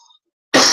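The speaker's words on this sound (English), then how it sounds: "I have a little bit of a cough" A single short, sharp cough bursts in loud and close after a near-silent pause.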